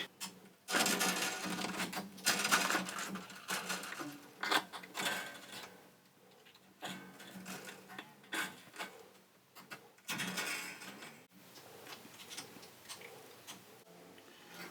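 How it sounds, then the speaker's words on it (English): A string winder turns on an acoustic guitar's tuning pegs, making rapid ratcheting ticks in uneven bursts as the strings are slackened, close and moderately loud. "I'll just use the string winder to take most of the tension off"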